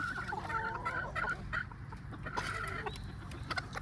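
A chicken on a South African farm clucks and chatters in quick, uneven bursts at close range, with soft rustling and faint farmyard noise behind it.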